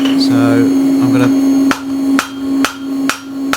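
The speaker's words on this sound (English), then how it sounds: "now I'm going to try and put some shape into the face using a rounded hammer and the beak" A rounded hammer shapes a metal ram's head face, striking four sharp, ringing blows at a steady pace. A loud electrical hum runs underneath, with some softer scraping before the strikes.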